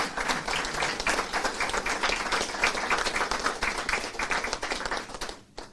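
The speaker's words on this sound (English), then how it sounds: "I think that deserves a big hand of applause" An audience claps for a nurse licensing initiative at a government announcement, producing a continuous, even round of applause that holds for several seconds before cutting off abruptly.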